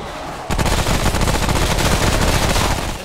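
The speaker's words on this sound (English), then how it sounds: "I'm wasting my bullets on you as you crawl around" Loud, continuous automatic gunfire from the video game Remnant from the Ashes, a dense rattling stream of shots aimed at a crawling enemy, starting abruptly and filling the whole stretch.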